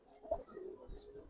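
A male pigeon coos softly, a short, low, throaty call heard close by in a quiet setting, without any talk.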